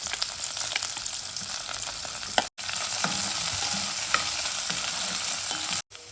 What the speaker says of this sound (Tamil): இப்போ 2 காஞ்ச மிளகாய் இந்த மாதிரி கிள்ளி போட்டுக்கலாம். வெங்காயம் போட்டுக்கலாம். பச்சை மிளகாய், கருவேப்பிலை.